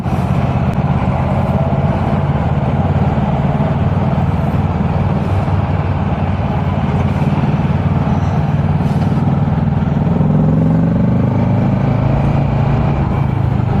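Dense highway traffic in Germany, with a large truck running close alongside: a steady, loud low rumble of engines and tyres with a sustained roar throughout and no talk.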